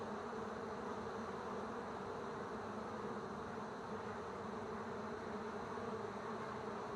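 Honey bees hum in a steady, continuous drone around an open hive during an early spring inspection, a dense buzzing swarm close by that holds at an even level throughout with no talking.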